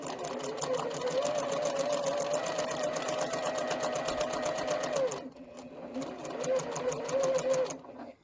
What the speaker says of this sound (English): I'm just going to sew really quickly down the side.